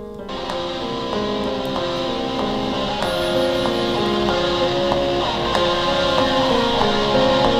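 Haunting music production layering piano with an electric guitar part, a steady mix of sustained tones and repeated plucked notes, moderately loud and continuous with no talking.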